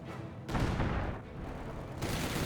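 Mortar blasts and MG42 machine-gun fire in Company of Heroes 2, heavy booms with rattling bursts, loud and close, one blast landing mid-clip and another at the end.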